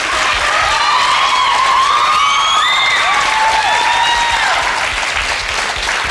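A German TV studio audience claps loudly and continuously, with scattered whoops and cheers rising over the dense applause for the whole stretch.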